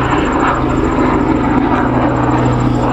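Aircraft noise from helicopters flying overhead, a steady, loud droning rumble with constant low hum and broadband wash that holds without a break throughout, no voices over it.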